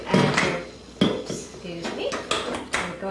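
A spatula clangs and scrapes against a mixing bowl while butter, sugar and peanut butter are creamed for brownies, giving a quick run of sharp metallic knocks close by, with some talk mixed in.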